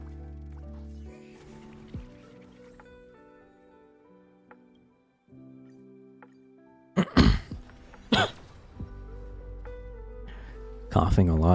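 A few sharp, harsh coughs burst out in a quick cluster, then another shortly after, heard close over quiet background music and game sounds.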